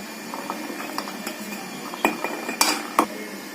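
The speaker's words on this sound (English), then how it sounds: "pour the gooseberries." Gooseberries are poured into a glass container for pickle, giving a patter of small clinks and taps that builds to a few sharper knocks against the glass near the end.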